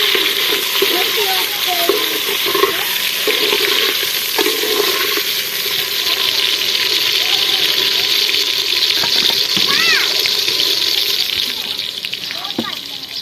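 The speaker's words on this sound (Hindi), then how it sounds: "अब जो इसमें प्याज ऐड कर दिया है। अब जो है हरी मिर्च ऐड कर रहे हैं और टमाटर भी ऐड कर रहे हैं।" Onion, green chili and tomato fry in hot ghee with a loud, continuous sizzle and occasional stirring clatter, while people talk over it throughout.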